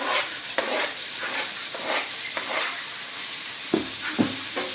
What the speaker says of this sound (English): it's a big onion, just one big onion. We're gonna go ahead and dump it in there.